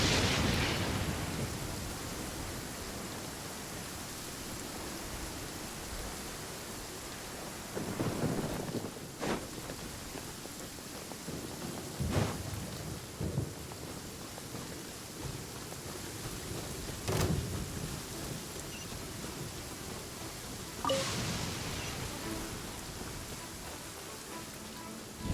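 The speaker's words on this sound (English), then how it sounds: "Quite a downpour. Nothing will get done until it clears." Steady heavy rain pours throughout a Genshin Impact thunderstorm, with several sharp thunder cracks and rumbles breaking through at intervals over the constant hiss.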